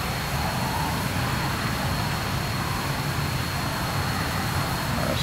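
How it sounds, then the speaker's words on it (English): Steady droning aircraft engine in the Arma 3 video game, a continuous low rumble with a faint high whine, even in loudness and heard alone. "I can hear another engine."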